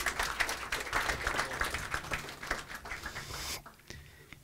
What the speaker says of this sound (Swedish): En applåd till.